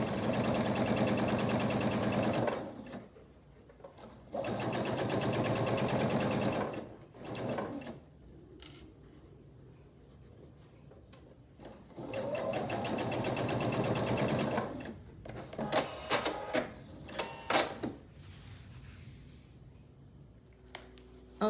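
Domestic sewing machine stitching a seam on a broken wheel quilt block, several loud sustained runs of fast mechanical whirring separated by pauses, with small clicks and fabric handling in between.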